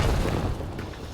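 A grenade blows up close by in a battle royale video game, one heavy low boom that opens at full force and slowly rumbles away over about a second.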